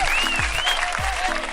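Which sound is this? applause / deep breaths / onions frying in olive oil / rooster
applause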